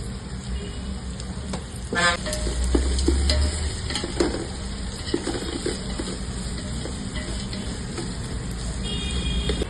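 Sliced onions sauté in Dalda with salt in a pan for biryani-style rice, giving a steady close sizzle broken by scraping stirs and occasional clinks of utensil on pan, with no talk.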